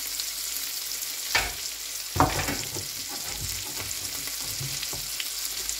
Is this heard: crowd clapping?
no